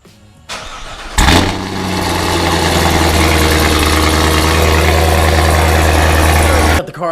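A car engine cranks and catches with a sharp start, then settles into a loud, steady low idle close by that runs until it cuts off at the end.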